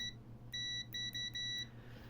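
A shrill electronic buzzer from a UNI-T UT33A+ multimeter's continuity test beeps in several short bursts, then one longer tone, close and clear over a low hum.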